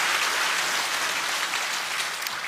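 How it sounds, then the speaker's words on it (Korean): A church congregation at a revival meeting applauds in a steady, dense wash of clapping, close and continuous with no talk over it. "자, 우리는 박수 한 번 더 해줍시다."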